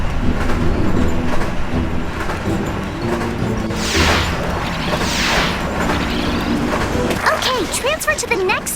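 A moving train in the Wii game Phineas and Ferb: Across the 2nd Dimension rumbles and clatters steadily, overlaid by voices and brief whooshing and crashing game effects.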